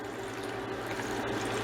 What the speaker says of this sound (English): So I'm just going to pour my lye water over my spatula